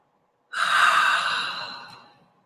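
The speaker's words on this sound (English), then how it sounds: "Big breath in, full breath out." A deep human breath drawn in and then released in a long, full exhale, close and clear, starting after a short silence and slowly fading out, with no talking.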